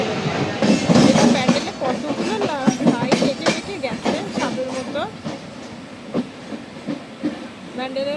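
A train pulls into a station on the line toward Howrah, with rumbling, clattering wheels and brief squeals as it slows, loud and close, mixed with people talking aboard.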